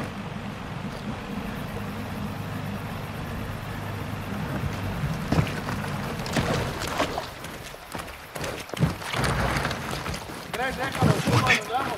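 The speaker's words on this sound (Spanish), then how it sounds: "Esa es su lancha." A cartel speedboat from Call of Duty Modern Warfare II rumbles at a distance, a steady low engine drone with water and wind noise, while voices talk over it.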